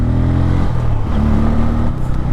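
A TVS Raider 125 motorcycle is ridden, its engine humming steadily up close with a shifting tone. One brief drop and rise in pitch suggests a gear change, against rushing wind.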